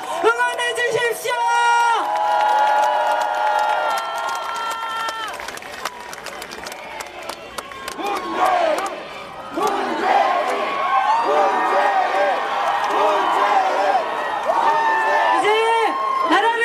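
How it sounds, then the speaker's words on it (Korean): A huge outdoor crowd at a 2017 presidential campaign rally in Gwanghwamun roars, cheers and claps continuously, with rhythmic chanted shouts and amplified voices rising and falling above the din. "크게 환영의 박수, 격려의 박수, 우리와 같은 함성으로 응원해 주십시오"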